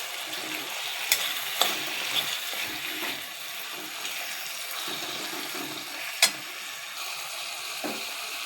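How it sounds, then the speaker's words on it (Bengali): Sesame paste being stirred into boiling khero in a pot, a steady bubbling hiss with a few sharp clicks of a spoon against the pot, no voices. "নেড়ে নেব।"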